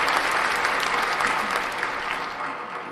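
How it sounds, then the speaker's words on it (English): A steady round of applause from a gathered audience, many hands clapping together at an even, fairly loud level for three seconds, tapering slightly at the close. "Round of applause."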